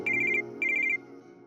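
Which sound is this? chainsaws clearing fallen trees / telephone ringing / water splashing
telephone ringing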